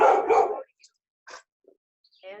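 A dog on a backyard deck gives a few short, sharp barks and yips spaced apart in near silence, with a voice talking briefly at the start.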